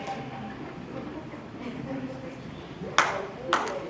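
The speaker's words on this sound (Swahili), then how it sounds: "Naomba tupige tena makofi kwa ajili ya kwaya yetu" A church congregation applauds its choir. Low crowd murmur gives way to two short, sharp bursts of clapping near the end.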